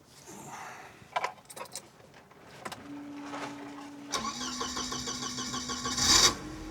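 A Speeduino-controlled car engine cranks with clattering starter noise, then catches and settles into a steady idle hum, rising briefly near the end; close and fairly loud, no talking.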